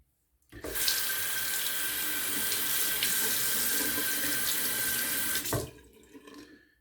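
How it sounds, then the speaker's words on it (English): A GEM single-edge safety razor clogged with hair and lather is rinsed under a running sink tap: a steady, close, full gush of water for about five seconds that stops abruptly, with no talking. "I'm rinsing it out under the sink and it's still there"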